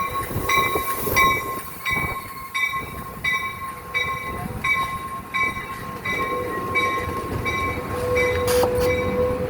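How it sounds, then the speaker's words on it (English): An Amtrak Capitol Corridor passenger train bound for Sacramento pulls into Richmond station in California. Wheels clack rhythmically over rail joints with tonal ringing and a rising squeal, and a brief horn note sounds near the end. "Amtrak Capital Corridor 534 arriving at Richmond Amtrak Station."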